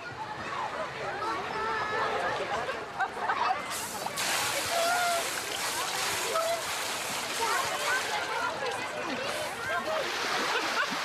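Swimming pool ambience with splashing water throughout, busy sloshes and splatters at a moderate distance, with voices of people talking over it.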